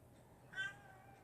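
A mother cat gives a single short meow, faint and somewhat distant against quiet room noise.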